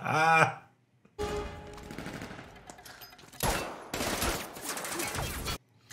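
Gunfire from the James Bond film No Time to Die: dense bursts of automatic fire and loud shots with action-scene clatter, starting after a brief pause and running in heavy waves to near the end.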